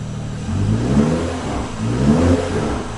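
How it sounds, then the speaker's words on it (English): A BMW F30 335i with the N55 turbocharged inline-six on a stage 2 tune, fitted with one-step-colder NGK spark plugs, revs twice in a row, rising and falling loudly and close with a steady engine hum between. "Let's go ahead and rev it a little bit."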